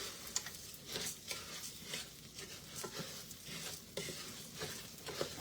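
Rice and butter are stirred in a pan, quiet sizzling broken by repeated scraping strokes of a utensil at a fairly regular pace, with small ticks and pops in between.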